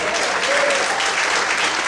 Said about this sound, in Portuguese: mais uma vez aplaude e glorifica ao Senhor em forte